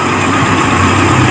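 Carbureted Suzuki Katana engine idling steadily below 2000 RPM, a loud, continuous close-up rumble with no pauses and no voices.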